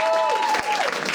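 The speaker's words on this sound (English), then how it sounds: "Clap it up, come on." A crowd at an outdoor labor walk campaign rally claps briefly, a short burst of applause with a voice trailing over it.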